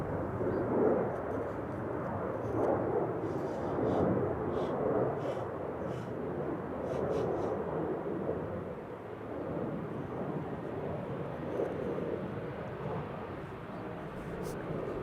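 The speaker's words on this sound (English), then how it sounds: "Finnair A350 to bloody Helsinki, flight 1302 is about to line up here." Finnair Airbus A350 taxiing at Amsterdam Schiphol to line up for departure, a low, fairly distant engine rumble and whine rising and falling gently over a long stretch with faint wind.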